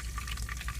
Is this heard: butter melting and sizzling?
yes